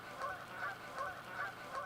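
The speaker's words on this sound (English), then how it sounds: "I'm pretty sure the geese aren't too happy out here right now." Geese at a park pond honk in a few repeated calls, faint and somewhat distant, over a low outdoor background.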